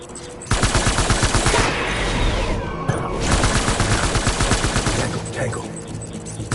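Sustained automatic gunfire in the video game Death Stranding, a loud rhythmic rattle of rapid shots running nearly continuously, with brief lulls and sweeping effects between bursts.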